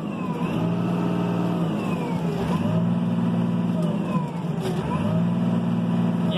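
A 2004 Renault Ares 656 RZ tractor engine revs up steadily and close by, a continuous diesel drone rising in pitch over several seconds.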